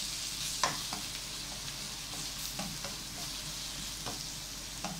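Garlic and onion sauté in a pan for a Filipino chicken menudo, a soft steady sizzle running throughout with a few light clinks of a utensil against the pan.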